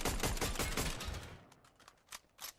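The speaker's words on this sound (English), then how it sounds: "The guy up on the hill shooting at me, wasn't there?" Rapid gunfire from an enemy up on a hill in a video game, a fast, loud run of repeated shots for about a second and a half, then a quieter tail with two more isolated bursts.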